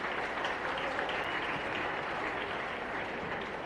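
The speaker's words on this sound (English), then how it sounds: "Please give him a big round of applause." Steady, dense audience applause at a memorial day event in Tamil Nadu after a speech, sustained clapping at an even level throughout with no voices on top.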